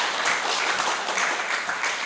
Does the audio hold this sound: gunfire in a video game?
no